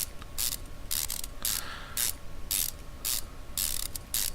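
Bolts tightened with a ratchet on a car wheel in the video game Car Mechanic Simulator 2015: eight quick bursts of clicking, evenly spaced about half a second apart, each one loud and close.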